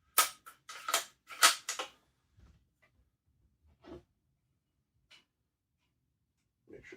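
A Stevens 334 rifle being cocked, a quick cluster of sharp metallic clicks and clacks close up, followed by a few faint, sparse taps amid quiet, with no talking.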